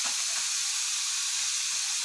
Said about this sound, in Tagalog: Gigisa-gisahin lang po ng mabuti hanggang sa mag-golden brown na yung giniling